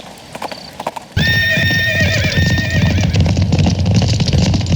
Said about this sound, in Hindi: सुनाई दे रही है घोड़े की चहल पहल।